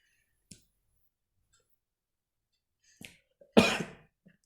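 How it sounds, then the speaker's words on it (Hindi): A person coughs in a quiet room: one faint, short cough, then after a long silence a small cough and a louder, harsher fit of coughing with a brief throat noise afterward. "माफ कीजिएगा, थोड़ा खांसी हो गया है।"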